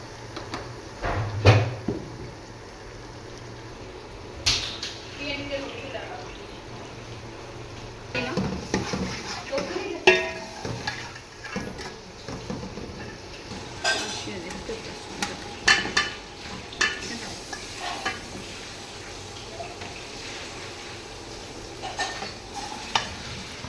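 A spoon scrapes and clatters through spiced masala of ginger-garlic paste and tomatoes in a pan for chicken biryani, irregular stirring strokes over a faint sizzle, no talk.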